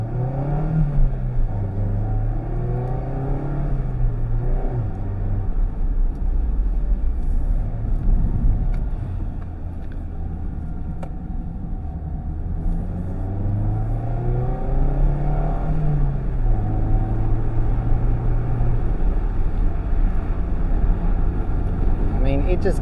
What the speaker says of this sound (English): Coming into the mountains, let's see how this car goes